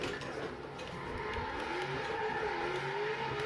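A car drifting in the video game Forza Horizon 3 gives off a faint, steady engine whine with a slowly shifting pitch, like a car revving, with no voices over it.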